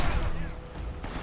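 A pistol shot in Uncharted: Drake's Fortune, a brief loud crack at the start amid game noise, a second fainter report near the end of the short burst.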